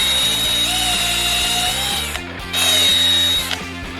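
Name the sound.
power drill clearing super glue from pen tube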